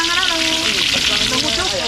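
Fish fries steadily in a pan, a close, dense sizzle that never lets up, while voices talk over it.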